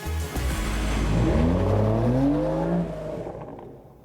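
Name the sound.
car accelerating away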